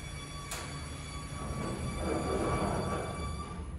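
An Otis Re-Gen machine-room-less traction lift in a hospital hums steadily while moving. A faint, thin high squeak sits over the continuous running noise.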